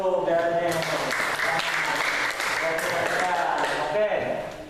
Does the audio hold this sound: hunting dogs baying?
no